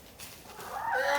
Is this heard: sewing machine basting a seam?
no